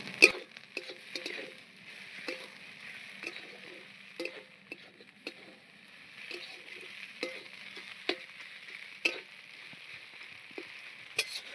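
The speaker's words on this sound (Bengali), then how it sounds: "এবারে পুরটাকে ভালো করে মশলার সঙ্গে কষিয়ে নিতে হবে মাছের গন্ধটা যাওয়া পর্যন্ত" Spiced fish filling is stir-fried in a pan with a soft continuous sizzle, broken by repeated light taps and scrapes of a spatula at an uneven rhythm.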